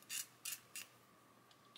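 A hobby knife scrapes along the edge of a plastic model kit body part in three short rasping strokes, close and quiet, followed by faint lighter touches.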